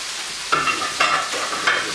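Marinated fish pieces for fish tacos fry in a hot pan, a steady sizzle broken by three short bursts of louder crackling and stirring as pieces go in or get moved.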